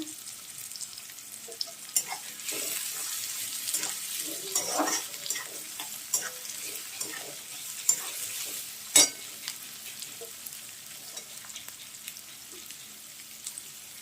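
Spring onion stir-frying for Hakka noodles in a pan, a soft steady sizzle with scattered stirring clicks and one sharp clack, fairly quiet throughout.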